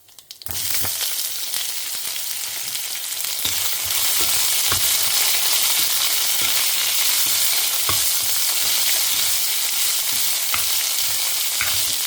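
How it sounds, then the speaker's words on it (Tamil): Mustard seeds spluttering and dal frying in hot oil make a steady, loud sizzle with scattered sharp pops and crackles, continuing throughout with no voices. "கடுகு பொரிஞ்சு பருப்பு செவக்கட்டும்"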